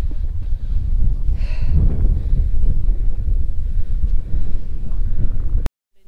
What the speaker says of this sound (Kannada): ಹಾಂ, ಸಖತ್ತಾಗಿದೆ ಗಾಳಿ